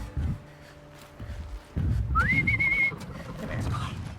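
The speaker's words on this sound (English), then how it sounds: "Let me whistle at it." A clear rising then steady whistle tone rings out inside Horizon Zero Dawn, aimed at a nearby machine creature, following footsteps and movement sounds in the game world.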